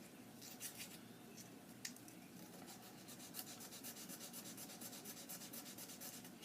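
Small piece of 150 grit sandpaper rubbed by hand over drilled holes in a wooden kit guitar body, a close, quiet, steady rhythmic scratching with brief harder strokes.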